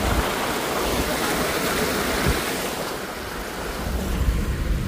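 Heavy floodwater rushing across a road in Devgad during torrential rain, a steady loud broadband roar of churning water close by with wind-like noise, continuous with no pauses.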